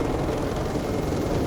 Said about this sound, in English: I've seen 2 helicopters land on the highway at once